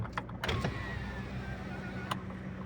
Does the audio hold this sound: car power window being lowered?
yes